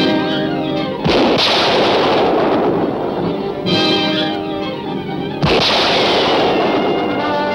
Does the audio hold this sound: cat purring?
no